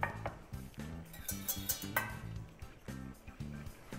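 A metal whisk beating an egg yolk in a pot, giving quick, rhythmic clinking strokes against the metal in short bursts, close and fairly loud, with no speech.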